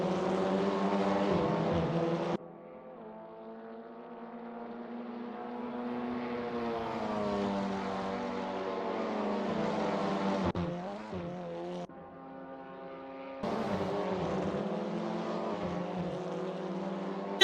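TCR Europe touring race cars, including a Honda, roar around Monza in a simracing video game, with a loud sustained engine note rising and falling through gear changes and brief cuts as the camera switches.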